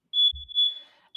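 An apartment smoke alarm goes off in a shrill, steady high-pitched beep, loud and close, with a brief low thump near the start and no talking.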